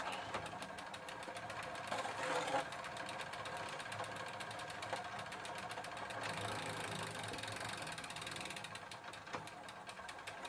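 Turning the crank of a Gazelle Maxinette moped in second gear makes a faint, steady, rapid mechanical ticking and whirring that continues evenly throughout.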